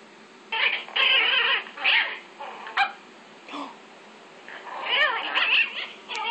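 A bigger dog squabbles with a baby chihuahua: bursts of high yipping, barking and whimpering come close and fairly loud in several separate flurries, with short quiet gaps between them.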